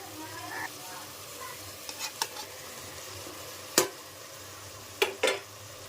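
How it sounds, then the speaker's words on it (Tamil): Prawns fry in oil with tomato, coriander and green chilli in a pan. A steady low sizzle runs throughout, broken by a few sharp clanks and scrapes of stirring. "எறா கொஞ்சம் எண்ணெயிலே ஃப்ரை ஆகுது."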